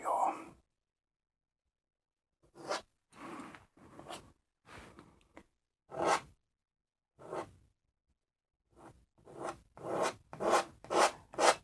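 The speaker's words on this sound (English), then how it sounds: "Just scrape off that excess." Paint being scraped off a canvas with a painting knife during a landscape painting: a series of short rasping scrapes, sparse at first and then in a quicker rhythmic run near the end, close and distinct.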